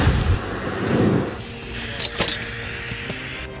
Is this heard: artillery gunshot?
yes